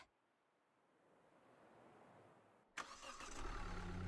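A car engine cranks and catches in a video game, a sharp ignition burst after a quiet building hiss, followed by a steady low idle rumble close by.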